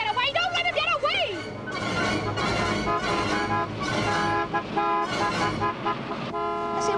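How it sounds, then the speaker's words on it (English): A car horn toots repeatedly on the road, blaring in loud, bright, bursts over engine noise and traffic, with raised voices and music-like tones mixed in. "what's that chap honking his hooter for?"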